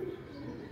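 A pigeon coos briefly nearby, a low soft murmur lasting under a second, fairly faint and alone.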